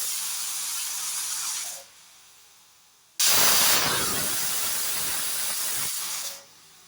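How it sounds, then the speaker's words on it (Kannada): A pressure cooker whistles while dal khichdi cooks, giving two loud, close bursts of hissing steam: one fading out near the middle, then a brief pause, then a second, stronger hiss that runs several seconds before cutting off. "ಕುಕ್ಕರ್ನ ಮುಚ್ಚಳ ಮುಚ್ಚಿ ವಿಜಲ್ ಹಾಕಿ 2ರಿಂದ 3 ವಿಜಲ್ ಕೂರಿಸ್ಕೋಬೇಕು."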